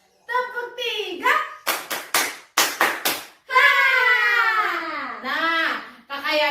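Sharp hand claps from children at a church Sunday school come in two tight triplets, bracketed by an adult's expressive, drawn-out speaking.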